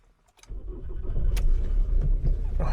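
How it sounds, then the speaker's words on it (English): An X-type estate car's engine cranks and fires up after a brief faint rattle, then settles into a steady low idle rumble, close and fairly loud, with no talking. "We're gonna fire the car up"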